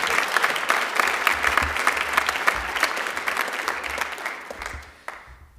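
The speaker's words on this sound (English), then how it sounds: "Let's give Mr. Anderson a big round of applause." An audience at a high school senior honors night gives sustained, dense applause, steady and fairly loud for several seconds before tapering off.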